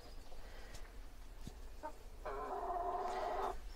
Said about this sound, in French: Je vais nourrir les poules pendant la petite pause cuisine.